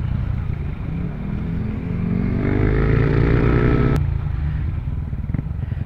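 A motorcycle with a newly fitted exhaust pipe runs close by, a steady throbbing idle that swells slightly in revs midway before settling, with no voices.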